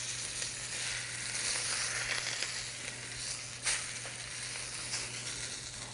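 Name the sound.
steak searing in a skillet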